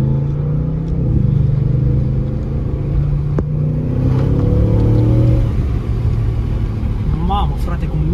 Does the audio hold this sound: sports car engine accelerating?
yes